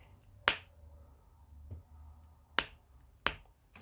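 A snappers fidget toy gives sharp snapping clicks, three loud crisp snaps and one fainter one, spaced irregularly over a quiet background.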